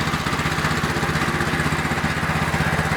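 A small rotary tiller engine for a Zim 350 running at throttle, a loud, close, steady rapid chugging with an even pulsing rhythm and no voices.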